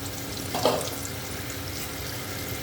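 Potato and pointed gourd fry in oil in a covered pan, giving a steady close sizzle with faint crackles throughout and one brief clatter near the start.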